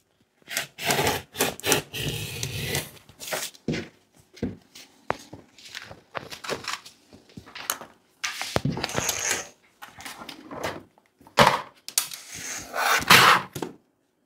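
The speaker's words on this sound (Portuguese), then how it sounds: "vou cortar com o meu cortador circular" Rotary cutter rolling through stacked fabric, lining and stabilizer for a floral zip pouch, heard as short bursts of close scraping and crunching separated by pauses.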